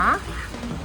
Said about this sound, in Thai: เป็ดก้าวก้า